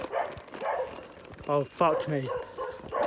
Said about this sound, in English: I've got a long walk with all these dogs barking in the dark.